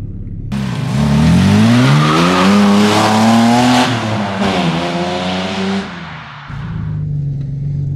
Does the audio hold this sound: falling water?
no